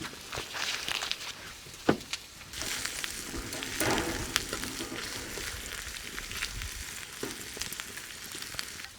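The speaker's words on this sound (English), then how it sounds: "I could probably add my onions. And the one thing that goes really well with cooking onions is a bit of butter." Onions frying in bacon fat and butter in a pan, a quiet, steady sizzle with crackling pops and a few clanks of stirring throughout.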